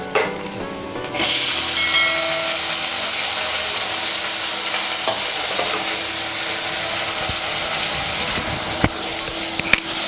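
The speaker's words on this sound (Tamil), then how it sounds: "லைட்டாக இதை வதக்கிடுங்க" A mixture of cowpeas and adai batter ingredients sautéing in a pan for Karadayan Nonbu adai, giving a steady broad sizzling hiss that starts after a second and runs on with faint scraping touches.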